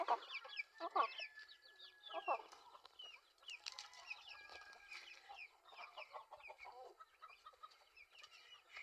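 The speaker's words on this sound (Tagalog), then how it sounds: "Napajud puti nga manok." Chickens, including a white hen, cluck and squawk on a small family farm, with a series of close, irregular clucks and chirpy calls and no one speaking.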